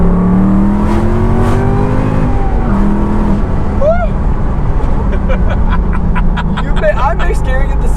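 A supercharged Ford GT500 pulls hard in second gear, its engine roaring loud and steady from inside the cabin, rising in pitch, with a brief chirp partway through and people talking over it.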